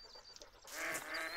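Ducks in The Hunter: Call of the Wild video game give honking quacks, a brief cluster of calls close by that follows a quieter ambient start.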